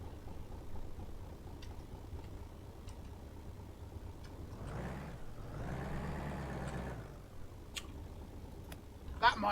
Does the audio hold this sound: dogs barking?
no